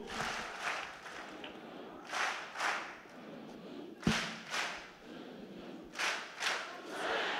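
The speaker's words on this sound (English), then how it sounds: "let's practice the love clap to appreciate Mr. Biodun Kolawole" An audience of students at a teachers' event performs a rhythmic 'love clap' for a guest, sharp clustered claps landing in a repeating pattern with short pauses between groups, fairly faint.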